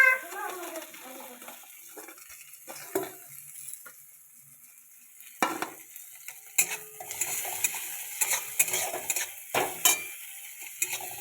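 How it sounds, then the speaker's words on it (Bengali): Tomatoes being stirred into fried onions in a cooking pan, giving intermittent scraping and sizzling bursts that grow busier in the second half, heard close up with no talking. "টমেটোগুলো এর সাথে ভালো করে আমি মিক্স করে নিচ্ছি"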